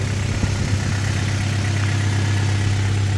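A swapped Honda VTEC engine in a sedan idles loud and close, a steady, even rumble with a constant low drone that holds unchanged throughout, with no voices.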